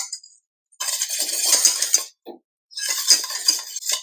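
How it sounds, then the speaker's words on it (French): Two bursts of a whisk beating rapidly against a metal saucepan of béarnaise sauce, close and brisk, separated by a short pause with a faint clink. "on voit le fond de la casserole quand je passe le fouet"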